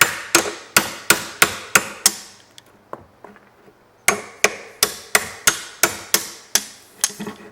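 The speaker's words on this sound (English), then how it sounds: "right here is just going to be hammer and chisel work" A hammer drives a chisel into a wooden door to cut a latch mortise: a steady run of about six sharp, close knocks, a short pause with faint scraping, then about nine more evenly spaced blows.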